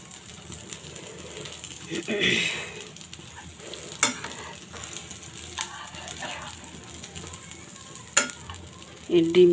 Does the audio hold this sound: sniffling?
no